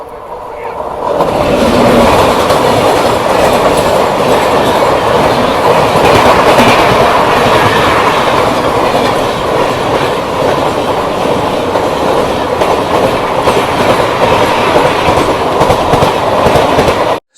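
The Korba-Yesvantpur Wainganga SF Express (12252) rolls along the rails, heard from inside a coach as a loud, steady rumble with rhythmic clickety-clack of wheels that holds for the whole stretch after a brief quieter start.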